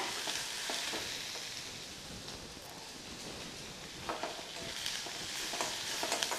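Onions sautéing in oil for onion podi idli give a steady close sizzle with occasional stirring scrapes and clicks of the spoon in the pan, and no talking.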